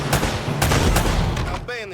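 Dense, loud gunfire from the PlayStation 3 action-adventure game Uncharted, with rapid overlapping shots and booms packed into a busy battle mix, voices calling out in the middle of it.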